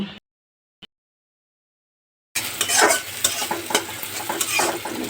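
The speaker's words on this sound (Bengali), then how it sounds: "পেঁয়াজগুলো একটু ভেজে নিব" After a couple of seconds of near silence, onions fry in a pan with a loud, continuous sizzle broken by occasional stirring scrapes.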